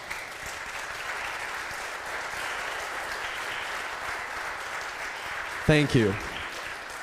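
Audience applause for event staff at an interfaith advocacy gathering, a continuous wash of many hands clapping throughout, with a brief spoken voice cutting in near the end.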